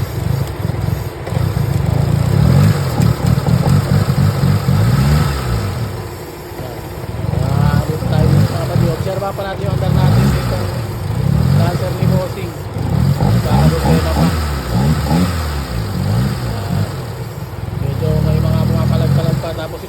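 A Mitsubishi Lancer car engine with the air conditioning on idles and revs in repeated surges, rising and falling close by, with a steady low hum underneath.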